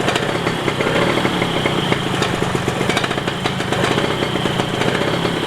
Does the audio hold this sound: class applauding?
no